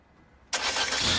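A carbureted Renault car engine cranks and catches abruptly after a quiet moment, then settles into a loud, steady running roar close by.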